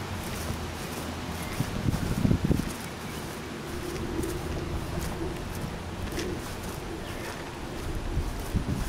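Wind on a breezy, hot and humid day at a family burial ground and house makes a continuous rushing, rustling noise, with occasional louder gusts and faint bird calls in the background.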